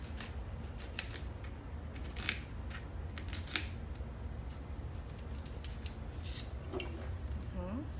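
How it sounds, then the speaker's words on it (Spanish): Onion being chopped for a okra-in-sauce sofrito, a quick irregular series of sharp knife clicks on a board, fairly faint and close, with a little talk. "Vamos a picar la cebolla."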